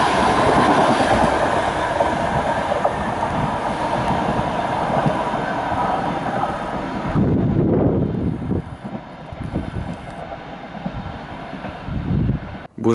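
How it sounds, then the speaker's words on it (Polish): A train rolls past close by through Bełchów station in Poland, a loud steady roar of wheels and rattling cars that fades away toward the end. "Pociągi przed burzą na stacji Bełchów."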